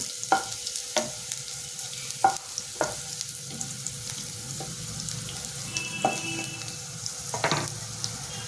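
Vegetables frying in a pan for a Bengali thankuni leaf shukto, a low continuous sizzle broken by repeated spatula clicks and scrapes as they are stirred, close by and without speech.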